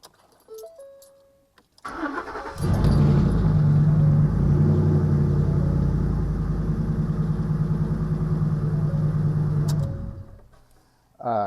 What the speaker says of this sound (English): does that sound like a bad engine?